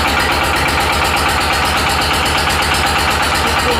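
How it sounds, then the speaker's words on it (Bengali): A machine engine runs loudly and steadily at a brick loading site in Pabna district, a truck being loaded with bricks, its idle throbbing in a continuous, even rhythm throughout. "এখানে মেশিনের শব্দ"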